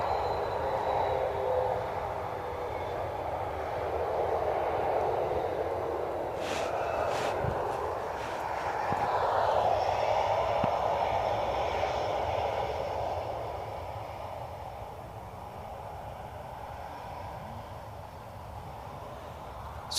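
An airliner departs Birmingham Airport, heard from a nearby park as a steady, distant engine roar that swells slightly and then slowly fades, with no voices.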